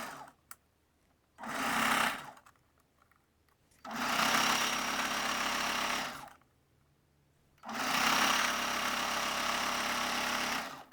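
A sewing machine stitches elastic onto a bra in three separate whirring runs, each a steady close mechanical hum lasting a couple of seconds, with quiet pauses and small clicks between them and no speech.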